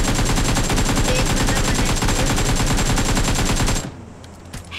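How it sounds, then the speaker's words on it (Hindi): Rapid, sustained gunfire in the BGMI battle royale game rattles on loud and close for nearly four seconds, then cuts off abruptly and leaves faint background noise. "अरे कहाँ से मार रहा है ये स्नाइपर?"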